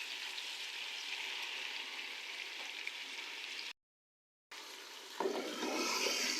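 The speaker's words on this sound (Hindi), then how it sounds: "अब मैं इसमें ऐड कर दूंगी टमाटरों का पेस्ट" Fresh tomato paste goes into meat for a korma, with steady loud sizzling that briefly cuts out, then returns brighter and rougher as the paste hits the hot pan.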